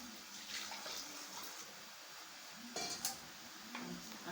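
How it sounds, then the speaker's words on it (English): Water is poured into a stiff, thick Okpa mixture in a kitchen, with splashing and trickling and a few brief clinks of utensils near the end. "I will add another water to it."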